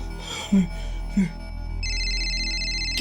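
Phone ringing indoors in a horror show scene, an electronic ringtone starting partway through and sustaining steadily to the end, heard after a couple of brief low thuds.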